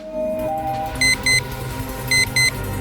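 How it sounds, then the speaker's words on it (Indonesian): Two pairs of high, short electronic beeps sound from a small toy timer, close by, over faint background hum. "ada semacam timer yang menyala. Sesuatu mulai berbunyi di sini."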